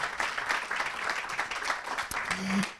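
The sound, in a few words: audience applauding the speaker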